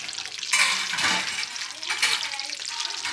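Diwali snacks fry in a pan of oil in a home kitchen, a loud and continuous bubbling sizzle with swelling surges and faint stirring sounds throughout.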